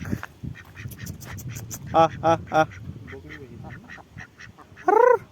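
Several loud nearby duck quacks at a pond beside Morgram railway station in a quick burst, then another later, with someone talking between them.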